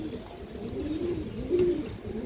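Pigeons coo close by in a low, rolling rhythm, a few repeated throaty calls overlapping across the short stretch with no talk.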